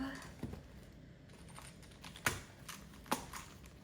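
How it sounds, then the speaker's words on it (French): Paper envelopes being emptied, with a few soft papery rustles and sharp crisp snaps spaced apart, close by and fairly quiet against a faint background. "maintenant, je vais vider mes enveloppes."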